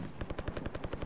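Rapid automatic gunfire in the video game Warzone: a fast, even burst of about a dozen shots within one second, fairly faint and with no voices over it.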